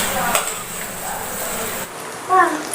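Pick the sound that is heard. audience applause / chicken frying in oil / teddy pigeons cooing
chicken frying in oil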